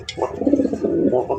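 Fancy racer pigeons coo in a continuous throaty rolling call, close and loud, with a brief sharp sound at the start.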